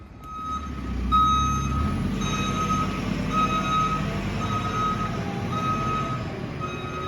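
A lorry loaded with oilseed rape reverses on a farm, its backup alarm beeping in a steady repeated rhythm over a low, constant diesel rumble, fairly close and with no talking.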